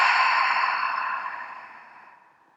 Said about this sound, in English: Breathe out through the mouth,